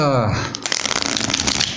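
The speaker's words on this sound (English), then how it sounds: "shuffle this deck 3 times." A tarot card deck being shuffled close up, a quick riffling flutter of cards over a second or so, while a voice speaks across the start.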